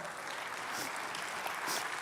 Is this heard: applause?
yes